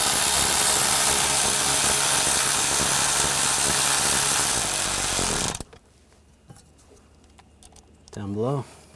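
Screws being driven into the side of a radio control unit on a 2015-2020 Cadillac Escalade, a loud continuous powered whir that stops abruptly, followed by quiet handling clicks and a short voice.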